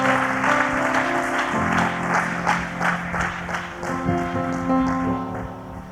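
A church congregation claps for several seconds in a steady patter, mixed with background music that holds sustained tones underneath the applause.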